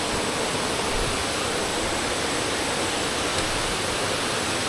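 Erakampalem waterfall roars as a dense, unbroken wall of rushing water, loud and close, holding steady throughout with no voices over it.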